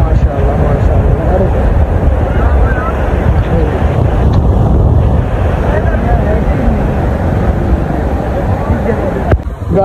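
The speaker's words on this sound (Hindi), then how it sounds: "ये लहरें चल रहे हैं" Sea waves wash steadily around a moving boat off Karachi, a loud continuous rush of water and wind buffeting the microphone throughout.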